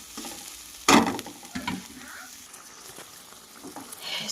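Chicken tipped into a hot frying pan with oil and salt, a sudden loud splash of sizzling followed by scraping stirs and ongoing crackle, close and busy.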